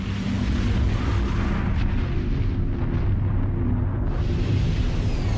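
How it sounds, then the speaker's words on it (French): Massive sustained roar of a KLM Boeing 747 colliding with a Pan Am Boeing on the runway, a loud continuous rumbling blast with no pause and no voices. "On a entendu un grondement et une explosion terrible."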